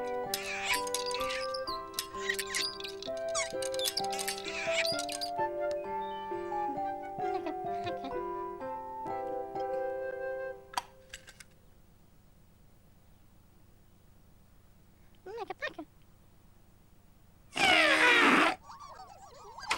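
Makka Pakka's toy trumpet, heard as a funny, wobbly tone over a busy musical backdrop, then a few short honks and a loud blast near the end.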